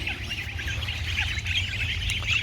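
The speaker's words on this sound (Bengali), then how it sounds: "দেখেন আমার এই হাঁস" Ducks in a farmyard give a steady stream of soft calls and chatter close by, continuous over a low background hum, with no one speaking.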